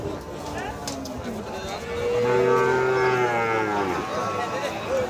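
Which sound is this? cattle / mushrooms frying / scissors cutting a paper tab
cattle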